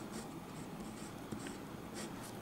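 Pen or marker strokes scratch across a board or paper while working a maths problem on rational and irrational numbers, giving soft, close, continuous scribbling with brief squeaky accents and no talking.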